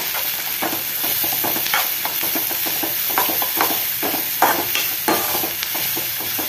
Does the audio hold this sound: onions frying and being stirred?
yes